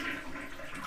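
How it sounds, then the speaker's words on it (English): A toilet with a broken flush valve is flushed to drain its tank, giving a steady rushing gush of water that runs loud and unbroken from start to end. "Okay, let's open the toilet here. We want to flush what's in here to get most of it out."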